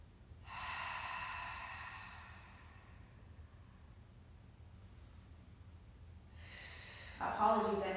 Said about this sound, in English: So now just do a couple cleansing breaths